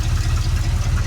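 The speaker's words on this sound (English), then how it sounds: "I mean, it's loud and it's got exhaust leaks and all this other stuff" A junkyard square-body tow truck engine idles loud and lumpy with exhaust leaks, a steady low throbbing pulse heard close up without talk.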